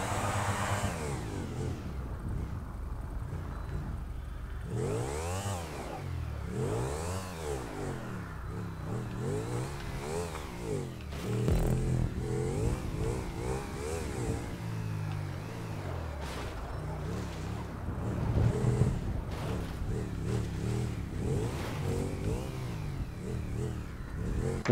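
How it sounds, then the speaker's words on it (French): Motorcycle engine in GTA 5 parkour play, revving up and down in repeated sweeping pitch rises and falls, close and fairly loud, with occasional speech over it. "Après, tu re-récupères la moto."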